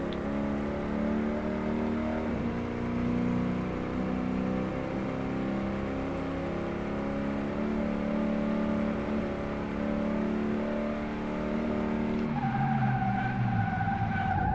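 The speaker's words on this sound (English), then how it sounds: "Heat up the tires." A car doing a stationary burnout in Car Mechanic Simulator, with a sustained droning engine note and tire squeal held for about twelve seconds before the pitch shifts near the end, with no talking.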